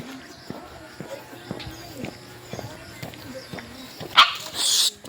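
A dog barks a few times at a distance amid street noise and footsteps on a walk, with people talking nearby.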